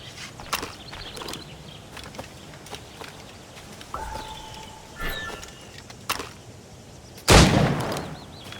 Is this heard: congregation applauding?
no